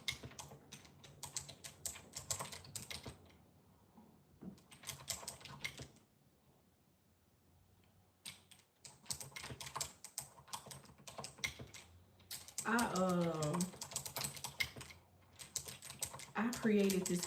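Typing on a stiff computer keyboard with very hard keys, delivered as bursts of dense clicking broken by short pauses. A voice speaks over part of the typing.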